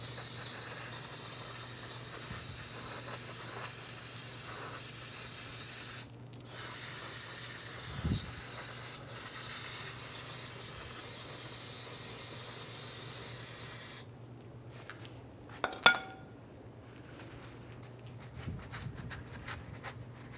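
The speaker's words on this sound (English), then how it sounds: "Start with some brake clean." An aerosol can of brake cleaner sprays onto a rear wheel hub of a 2003-2011 Honda Element, a loud steady hiss in two long bursts with a short pause between, then quieter clinks and a sharp metallic tap.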